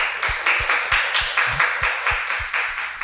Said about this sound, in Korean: 우리 하나님께 영광의 박수 올려드려.